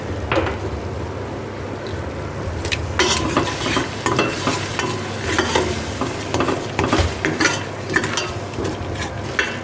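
Chicken haleem is stirred and mashed in a pot with lentils, giving a steady low sizzle under repeated scraping and thudding strokes of a wooden masher, close and rhythmic, with no talking.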